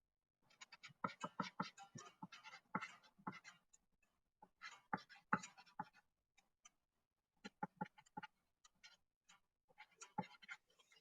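Colored markers scratching across paper while writing a wish, quiet close-up strokes in uneven bursts of short squeaky scrapes with pauses between words.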